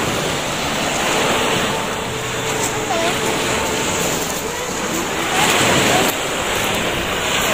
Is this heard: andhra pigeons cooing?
no